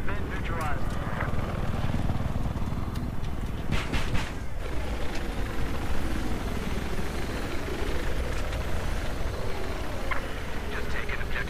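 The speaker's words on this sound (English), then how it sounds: "There appears to be an enemy helicopter east of your location." A video game helicopter's rotor thumps steadily throughout, with a voice talking over the drone and a few sharp bursts near the start.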